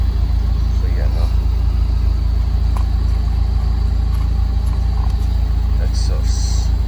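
A car engine rumbles steadily at idle through a new 4-inch double-wall exhaust tip, loud and continuous, with voices faintly heard over it.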